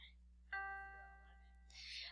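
One G quarter note sounds on an electronic keyboard, a clean sustained tone starting sharply and ringing for about a second over low electrical hum, followed by a brief breathy noise.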